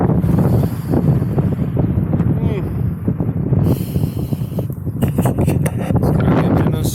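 Wind at the port of Dublin buffets the microphone in heavy low rumbling gusts, and a voice talks over it at times.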